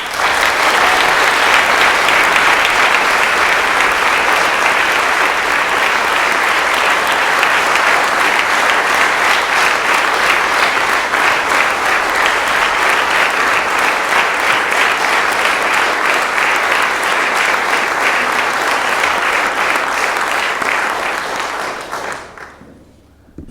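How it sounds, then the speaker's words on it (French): Thunderous applause from a courtroom-pleading contest audience honoring Anne Gruet, a dense, steady roar of clapping that holds loud for about twenty seconds before quickly fading out. "un tonnerre d'applaudissements, s'il vous plaît,"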